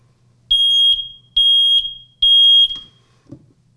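A smoke alarm sounds three loud, piercing electronic beeps, each about half a second long with short gaps between them, close by and with no talk over them.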